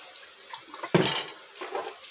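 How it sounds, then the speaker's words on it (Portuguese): Cold water splashes briefly into a bowl of grape gelatin mix in a home kitchen, one short pour against quiet surroundings. "É bom também jogar um cadinho de água gelada."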